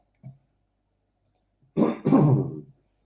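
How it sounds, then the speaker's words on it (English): A rugby commentator covering a Leinster vs Ulster Rainbow Cup match clears his throat: a tiny catch first, then one rough, forceful rasp lasting about a second, close to the microphone with no other sound around it. "Just going to clear my throat real quickly, guys."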